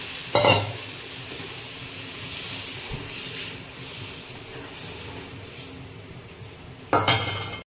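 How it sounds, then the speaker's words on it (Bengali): Masoor lentil dal being tempered in a pan, with a brief loud sizzle and clatter at the start, a steady low frying hiss throughout, and another burst of sizzling and utensil noise near the end. "আমি এখানে ডালে ফোড়ন দিয়ে দেবো।"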